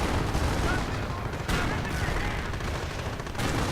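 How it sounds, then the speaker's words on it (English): Dense, sustained video game gunfire in a World War II battle, with an MG42 machine gun and a Panzer IV tank firing together. Rapid overlapping shots and booms run nonstop at high level, with brief dips in between. "The Panzer IV's firing away."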